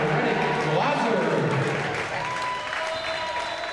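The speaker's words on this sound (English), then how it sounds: "The crowd is pumped" A crowd at a high school basketball game bursts into loud applause and cheering after a three-point shot, sustained clapping and shouts that ease slightly toward the end, with a commentator speaking over it.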